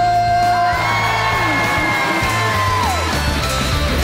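A live concert audience screams, whoops and cheers after a singer's performance, a loud, close wall of yells and shouts that holds for several seconds.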